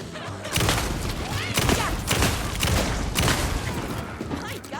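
Sustained heavy gunfire in the video game Alan Wake II: loud, continuous volleys of shots with booming hits, and a voice speaking over the barrage.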